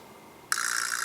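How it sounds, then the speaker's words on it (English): After a brief silence, a vibroslap is struck once and lets out a bright, buzzing rattle that sustains evenly to the end. "So the vibroslap sounds like this."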